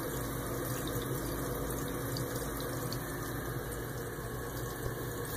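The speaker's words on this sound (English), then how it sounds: "right now the house is being pumped out by pump number two" A sump pump runs steadily, emptying water from a basement pit in a three-pump system, with a continuous faint hum and watery rush and no pause or talk.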